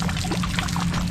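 Water pours steadily out from under a rice field barrier, a continuous splashing trickle heard up close with no talk over it.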